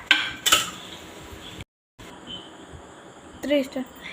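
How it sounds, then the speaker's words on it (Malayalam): Cooked beef is tipped into a cooking pan for curry, with a few sharp clinks and scrapes of a utensil against the pan and brief speech around them. "വേവിച്ചു വെച്ച ബീഫിന് ചട്ടിയിലോട്ട് ഇടാം."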